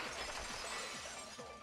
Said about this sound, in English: Heard the sound of the window shattering.